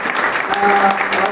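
Audience applause at a district pensioners' general meeting in Porbandar, a steady, dense patter of many hands clapping close by throughout the short stretch.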